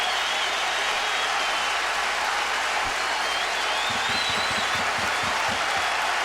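Large Yankee Stadium crowd cheering at a 2007 playoff game against Cleveland, a continuous loud roar that swells, with rhythmic stomping or clapping thuds entering toward the end.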